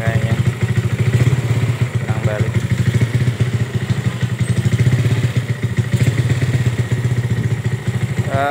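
A Yamaha Vega motorcycle engine runs steadily nearby with a fast, even, slightly clattery beat throughout, loud and continuous without a break.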